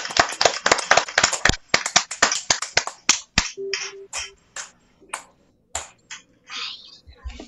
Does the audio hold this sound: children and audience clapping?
yes